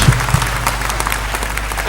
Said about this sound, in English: Give him double round of applause.